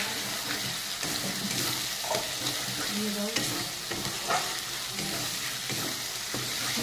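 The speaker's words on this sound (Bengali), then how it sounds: "আমার মশলাটা ভাজা হয়ে গেছে, দেখো সাইডের তেলটা উঠে গেছে।" Spiced masala with tomato paste frying in oil in a pan, a steady sizzle with scraping stirring strokes and occasional clinks, close and moderately quiet, without talk.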